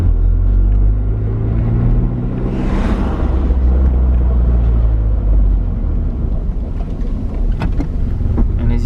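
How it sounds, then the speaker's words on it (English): A Nissan 240SX cruises along, its exhaust and muffler a low steady rumble with wind noise over the microphone, loud and continuous throughout with no talking. "This car is like really quiet, and the actual the muffler or exhaust sounds really good as well."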